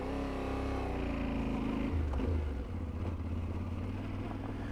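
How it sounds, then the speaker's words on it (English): A Yamaha Tenere 700 motorcycle rides off-road over lumpy terrain, its engine droning steadily and close, with a pitch shift partway through like a gear change or throttle adjustment. "We're meant to be testing this bike off-road, aren't we?"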